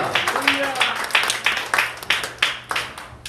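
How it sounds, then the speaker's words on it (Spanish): Church congregation applauding during a sermon, a rhythmic series of loud unison claps, roughly two per second, with a voice and background sound underneath. "Denle un aplauso a Cristo, hermano."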